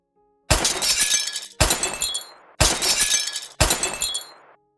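Four loud glass-shattering bursts, each a sharp crash followed by a second of tinkling debris, evenly spaced, added as bullet impacts on breaking glass in an Unreal Engine 5 Chaos destruction fracture simulation.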